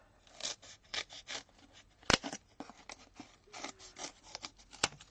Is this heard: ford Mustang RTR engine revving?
no